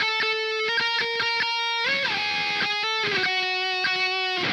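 An electric guitar plays a riff from a song: clipped, rhythmic chugging notes in short bursts, followed by a sustained, sliding passage, played clean and alone.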